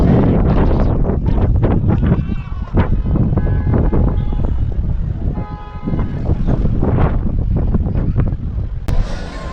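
Strong wind at a hill station viewpoint in Saputara, a loud continuous roar buffeting close up with gusts, mixed with faint voices and clicks.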